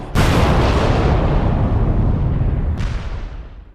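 A gunpowder blast in the strategy game Medieval II: Total War: a sudden loud boom that rolls into a long rumbling decay, with a second sharp burst near the end as the rumble fades.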